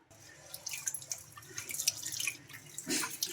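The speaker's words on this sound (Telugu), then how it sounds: "ఇంకా వీటిని ఒక 2 సార్లు శుభ్రంగా వాష్ చేసుకుందాం." Ration rice being washed in water in a mixing bowl, with steady sloshing and dripping splashes throughout and a stronger swirl of water near the end.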